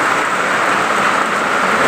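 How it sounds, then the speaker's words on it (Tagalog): Heavy rain pours down on a farm during a strong typhoon, a dense, loud, unbroken hiss with no voices. "Lakas ng ulan. Grabe yung ulan. Lagi na lang umuulan."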